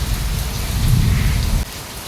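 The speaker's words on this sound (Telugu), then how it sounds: "ఫుల్ వర్షం, చాలా పెద్ద వర్షం." Heavy rain pours down in a loud, dense, steady roar of drops, easing slightly in volume near the end.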